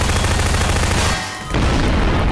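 A bomb blast in the video game Garry's Mod, one loud, continuous roaring explosion that fills the clip, cut by a brief dip in the middle before the rumble returns.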